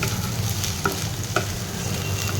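Mixed vegetables of carrot, beans, cauliflower and potato fry in a pan with a steady, close sizzle, broken by a couple of light clicks from stirring.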